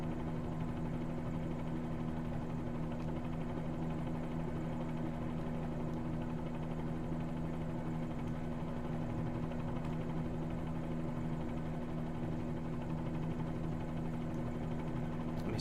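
A Bell 47G helicopter in Microsoft Flight Simulator, flying over New York: a steady, continuous engine and rotor drone with a strong low hum, holding at an even level throughout with no talk.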